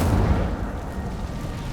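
A fire spell cast in Hogwarts Legacy bursts out with a heavy, low rumbling whoosh that fills the whole moment, loud and close, with no voices over it.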